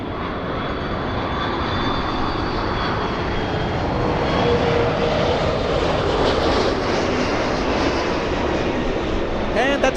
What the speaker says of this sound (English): And that's Delta, the A330-300 flying in from JFK after 5 hour 35-minute flight.